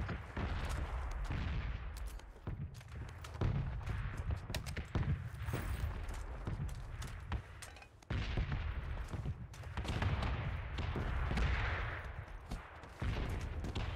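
Pistol shots from PUBG ring out in quick, irregular bursts, loud and close, with sharp cracks repeating through the stretch and brief gaps between volleys, no talking heard.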